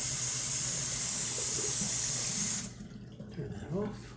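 Water runs steadily from a bathroom sink tap during a shave, a loud close hiss that stops abruptly when the tap is shut off, leaving faint drips and small splashes, with a voice heard briefly.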